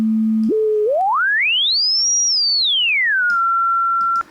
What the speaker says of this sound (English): you can hear a smooth change when I'm moving the frequency slider